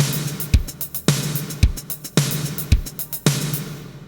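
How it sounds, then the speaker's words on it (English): A looping drum pattern made in PS1 music software, with punchy low kicks and bright, crisp snare and hi-hat hits in a steady groove, loud and close with no voices. "So without, the drums sound like this."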